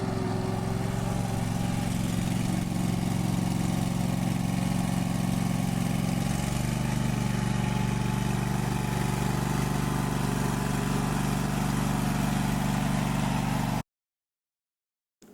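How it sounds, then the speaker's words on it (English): A riding lawn mower engine idles steadily at close range, a loud continuous rumble that shifts slightly in pitch midway, then cuts off abruptly near the end. "Run the engine for a few minutes to allow the oil in the crankcase to warm up."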